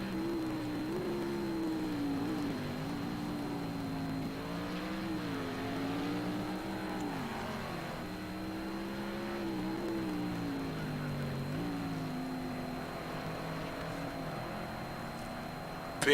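BMW GT3 race car in Project CARS 2 at Imola, engine note rising and falling steadily through a corner and uphill exit as power comes back on, loud and continuous with a faint voice beneath.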